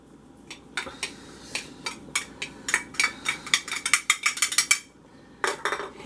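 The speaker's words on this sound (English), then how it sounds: "And we're just going to stir this around." A spoon stirring Parmesan into cauliflower soup in a pot, with a quickening series of light metallic clinks and scrapes against the pot, close and fairly quiet, then a brief pause and a few more taps.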